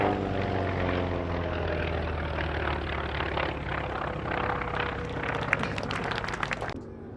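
A Grumman FM2 Wildcat fighter, built by General Motors' Eastern Aircraft Division, flies at the Duxford Battle of Britain airshow, its piston engine droning loudly and steadily before fading slightly at the end.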